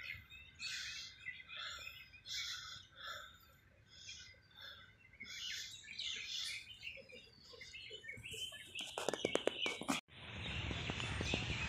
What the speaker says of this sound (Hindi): पंछियों की चहचहाट की आवाज़ आ रही है